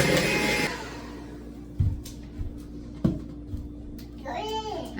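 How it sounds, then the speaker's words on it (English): Muffin batter for whole wheat apple cinnamon muffins being stirred by hand in a bowl, with soft scraping and a few knocks against the bowl, under a brief burst of noise at the start. "now I'm going to mix this"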